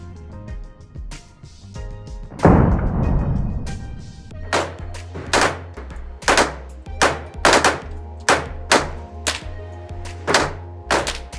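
A Glock 22 pistol fitted with a Strike Industries Mass Driver compensator fires a long string of sharp, loud shots. A burst comes first, followed by a steady run of separate reports about half a second apart, with no talk.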